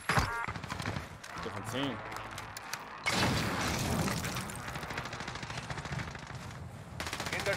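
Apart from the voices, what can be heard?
gunfire from the video game Warzone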